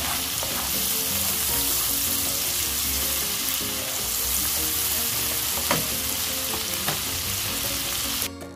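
Garlic shrimp pasta sauce bubbling and sizzling steadily in a pan as it reduces, a close, continuous frying hiss with a few faint clicks and taps and no talk.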